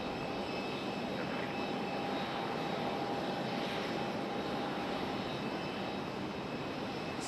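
A Frontier Airlines airliner near Raleigh Durham International Airport produces a continuous broad jet roar that holds steady and loud throughout, with a faint whine riding on top.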